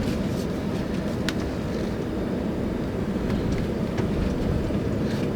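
A 2019 Ford Expedition Limited with a 3.5-liter V6 drives along, its steady low engine and road rumble holding constant throughout, with faint wind noise above.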